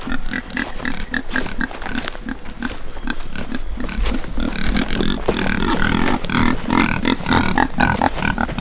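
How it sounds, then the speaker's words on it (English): A couple of feeder pigs grunt and snuffle steadily in a silvopasture of forested pasture, loud and close, with repeated rhythmic grunts throughout and no talking. "These are a couple of feeder pigs."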